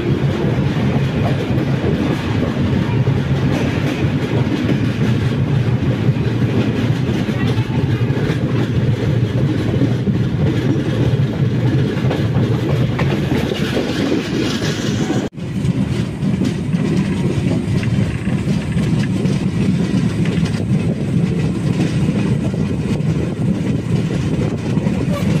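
The Sanghamitra Express, a long-distance Indian passenger train, rolls on its rails with a loud, steady rumble and rhythmic clickety-clack heard from on board, with a brief jolt midway and no talking.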